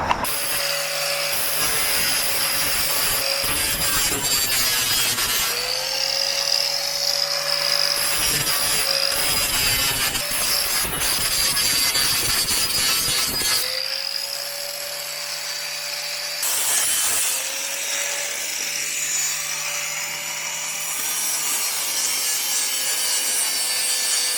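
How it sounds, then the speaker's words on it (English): An angle grinder works down welds on a car body panel, a continuous loud whine with a steady tone that dips and resumes several times as the disc bites the metal, with no talking. "let's get into the grinding of the welds"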